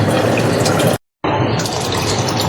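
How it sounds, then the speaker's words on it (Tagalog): Water runs loudly into a cooking pot on a home stove, a close, continuous gushing pour broken by a brief gap of silence before resuming. "Lagyan natin ng tubig kasi kanina nagpakulo na ako."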